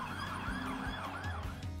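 A police car siren wails in a steady rising and falling pattern, continuous and moderately loud over a low rumble of traffic or engine.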